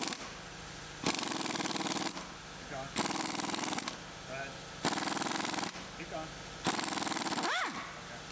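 Air impact wrench in short loud bursts, five of them roughly every two seconds, loosening rust-seized drive shaft bolts on a 2015 Mustang GT S550 being stripped in a garage, with brief quieter gaps between bursts.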